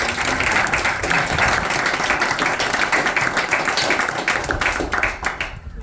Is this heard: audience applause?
yes